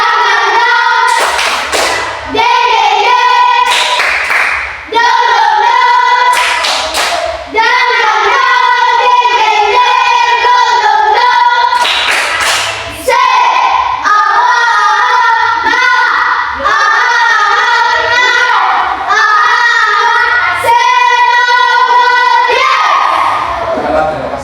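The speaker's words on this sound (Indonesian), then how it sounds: "Tepuk semangat" A classroom of students doing a rhythmic group spirit clap, repeated bursts of hand claps alternating with loud chanted shouting in unison, with a teacher leading nearby.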